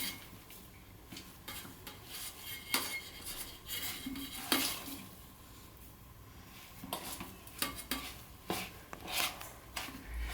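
Rava being mixed with curd in a bowl, with repeated scraping and clinking strokes of a spoon against the bowl. The strokes come in an uneven rhythm, close and fairly quiet.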